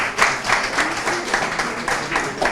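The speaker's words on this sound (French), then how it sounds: "On peut les applaudir" Audience applause rises after a call to clap for the young people of Parakou at a local association event, a dense, steady wash of many hands with rhythmic surges, fairly loud and continuous throughout.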